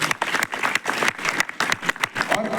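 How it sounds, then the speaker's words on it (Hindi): An audience claps for a student's exam result in a brief burst of dense applause, loud and close, with no other sound over it. "अगर आपको लगता है कि ताली बजनी चाहिए उस बच्चे के हौसले की, तो एक बार आप बजा दीजिए"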